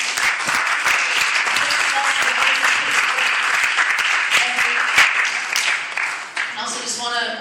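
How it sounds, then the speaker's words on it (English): Audience applause for youth leaders at an evening community fiafia night, sustained dense clapping at steady loudness with some cheering, tapering slightly toward the end as a voice begins to speak. "So just give a hand clap to our youth leaders."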